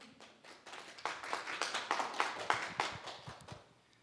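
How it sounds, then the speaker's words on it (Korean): An audience at a Korean student quiz and talent show claps, a short burst of applause that swells quickly, holds steady, then fades out over a few seconds. "박수 한번 주십시오."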